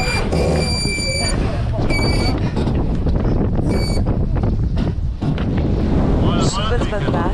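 Strong wind roars and buffets steadily across a sailing boat in 45-knot gusts during a regatta, with voices talking beneath the gusts.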